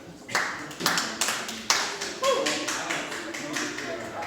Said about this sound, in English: I'm glad a couple of you found that applause worthy.